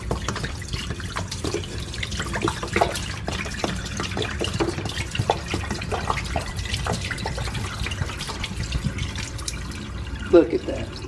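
Acid fizzing and crackling in a sink, dense little sizzling pops and drips heard close up, with a person talking throughout.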